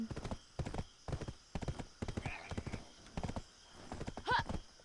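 Horse hooves clip-clopping in a video game, a steady run of sharp, close hoofbeats with a brief whinny near the end.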